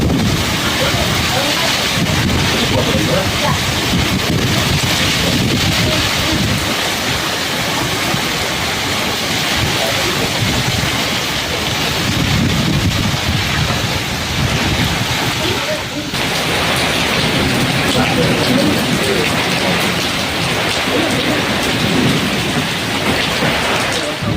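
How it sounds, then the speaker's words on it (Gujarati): Heavy rain pours down on farm fields in a dense, steady roar from start to finish, with a low rumble running beneath the downpour. "મિત્રો વરસાદ આવી ગયો"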